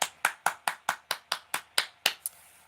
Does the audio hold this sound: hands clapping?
yes